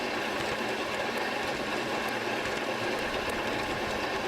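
Toy trains Toby and Emily racing around a track loop, a steady rattling rumble with faint rhythmic clicks running throughout.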